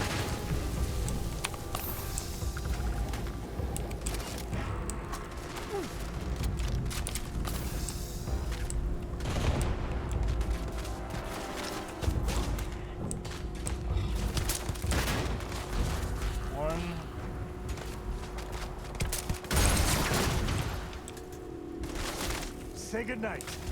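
Gunfire in the space game Starfield, scattered shots and impacts popping through a busy game soundscape with speech running over most of it.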